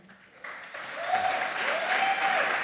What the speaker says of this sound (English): No need to clap.